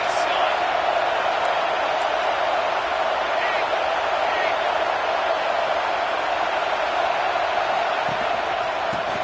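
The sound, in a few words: stadium crowd in NCAA 25 football video game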